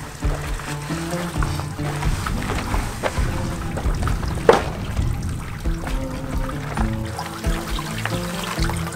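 Cold, dirty water trickles and splashes steadily from a small outflow along a hiking trail in Jordan, a continuous close gurgle with no talking.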